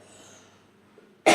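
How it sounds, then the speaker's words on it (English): A single loud, sharp cough bursts out near the end after a quiet stretch of faint background noise, close to the microphone during a live gaming stream. "Excuse me for the coughing."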